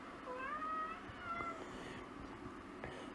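A nearby cat gives a couple of drawn-out meows beside an outdoor barbecue hut, a rising cry followed by a shorter one with no speech over them.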